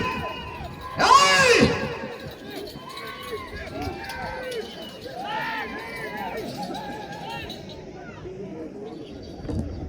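Spectators shout at a village bull race in Anantapur district, a loose crowd of distant yells and calls with one louder burst near the start, over a steady outdoor murmur.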